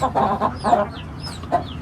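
Hens and roosters, including Indian breeds and a Goldfonix rooster, cluck in a small farm coop, with several close, throaty clucks and soft bird chirps in the background and no talking.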